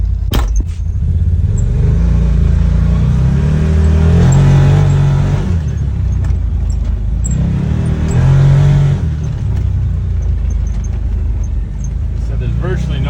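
Can-Am Defender UTV with an aftermarket exhaust, heard from inside the cab on a short cruise: a steady low engine drone and rumble that swells twice under acceleration, loud and close throughout.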